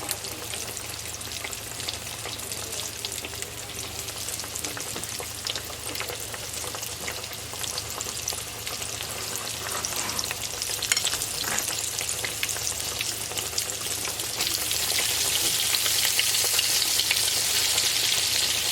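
Southern fried green tomatoes crackle and sizzle in hot oil, a steady dense frying hiss throughout that swells louder toward the end, with no one talking.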